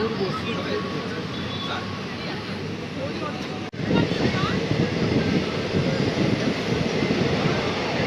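Ganadevata Express (train 13017) rolls through Shaktigarh station without stopping, a steady loud rumble of coaches that grows rougher and louder after a brief dip midway, with wind noise throughout.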